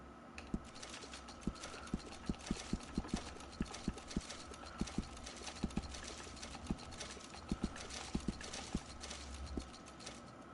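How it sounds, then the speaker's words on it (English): Horse hooves clip-clopping in the game Red Dead Redemption 2, a steady irregular stream of hoofbeats over a constant ambient bed, moderately close, with no talk. "And a fine new horse."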